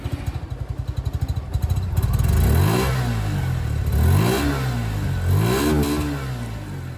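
Suzuki Gixxer SF155 motorcycle, a 2023 E20 model, riding with the exhaust note rising as it accelerates through gears, loud and close, with revs climbing and dropping several times and no talk.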